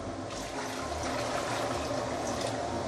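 Hot water poured into a pot of curry vegetables with tofu puffs, a soft, steady splashing trickle heard close and fairly quiet.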